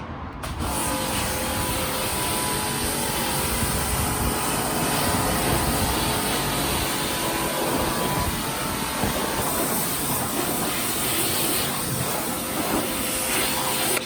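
A pressure washer sprays suds off a Tesla Model 3 in a loud, unbroken hissing roar of high-pressure water that holds steady with slight variations in tone throughout.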